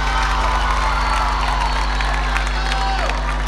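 A concert crowd at a rock tribute show in Cinco Saltos, Río Negro, applauding and cheering, a steady dense wash of clapping and shouts filling the whole moment at close range, with a low hum underneath.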